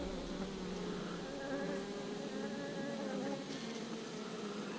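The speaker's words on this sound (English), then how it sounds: "See that queen, that bee right there feeding her?" Honeybees buzz steadily around a small, shrunken queen in the hive, a dense, continuous droning hum heard close up and fairly faint, without talk.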